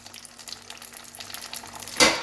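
Chicken spring rolls frying in hot oil, a soft steady sizzle with light crackle that swells into a louder, brighter burst of spitting near the end.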